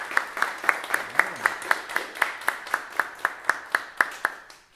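Applause for a trombone soloist at a high school jazz band's final concert, heard as a steady run of distinct, evenly spaced claps, moderately quiet and fairly close, with no one speaking.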